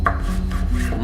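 A knife slices through a watermelon laid face down, giving a short, close chopping and rubbing crunch of rind and flesh against a cutting board, with no talking.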